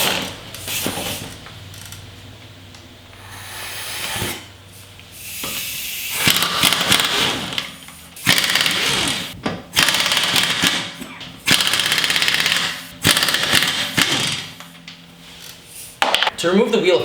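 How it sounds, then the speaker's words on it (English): An impact gun removes wheel studs in several loud, close, rattling bursts lasting a couple of seconds each, separated by short pauses, with a voice speaking in between. "if you have an impact gun, take advantage of it because it'll make your life very easy and you can take these studs off in a matter of seconds"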